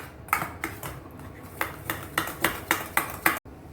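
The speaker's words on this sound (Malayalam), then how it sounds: "ഇത് ഒന്നിലേക്ക് നമുക്ക് കുറച്ച് കെച്ചപ്പ് ആഡ് ചെയ്ത് കൊടുക്കാം. ഇത് നന്നായിട്ട് തന്നെ നമുക്കൊന്ന് മിക്സ് ചെയ്ത് കൊടുക്കാം." A spoon mixes ketchup into a sauce, giving about a dozen sharp, close clinks and scrapes against the bowl at an uneven pace that speeds up toward the end.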